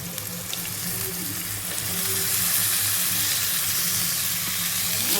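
Peas fry in a pan with a steady, moderately loud sizzle and hiss that swells slightly midway, alongside low background hum and no talking.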